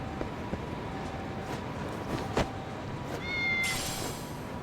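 A cat meows in the video game Lost Judgment, a single short mew near the end over faint game background noise, with no talk.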